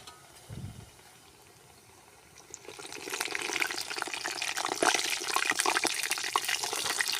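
Running water splashing as a ladle is washed in a village kitchen, starting after a quiet moment and continuing as a steady, close rinse with scattered clinks and drips.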